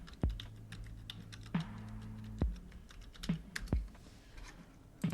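Someone types on a computer keyboard in short irregular bursts of clicky keystrokes, close by and without speech, during a sports discussion show.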